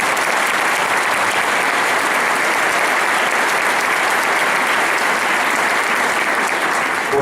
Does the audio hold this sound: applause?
yes